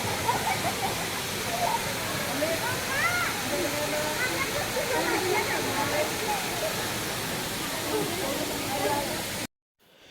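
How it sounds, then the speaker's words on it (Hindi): Waterfalls at the Rock Garden in Chandigarh roar in a constant loud wash of falling water, with indistinct visitor voices mixed in before an abrupt cut to silence. "यहाँ से सीढ़ियाँ चढ़कर जब हम थोड़ा सा आगे गए तो हमें सुंदर झरने दिखाई दिए।"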